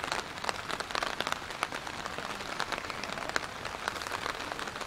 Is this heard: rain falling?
yes